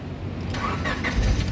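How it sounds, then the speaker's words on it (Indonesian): A 2004 Honda Stream 1.7 automatic car engine cranks and catches, settling into a steady close idle rumble with no talk over it. "Nah, ini coba nyalakan mobil."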